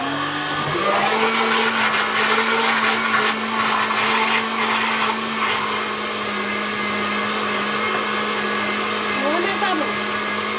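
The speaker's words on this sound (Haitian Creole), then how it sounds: "Faut blender." A blender whirs steadily and loudly throughout after spinning up at the start, its motor drone continuous with a slight pitch wobble near the end.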